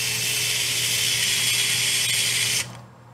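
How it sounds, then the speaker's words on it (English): A small powered screwdriver drives a screw into a TRX-4M transmission bracket, a steady high-pitched whine lasting over two seconds close up before stopping abruptly. "I got that screw in as much as I could"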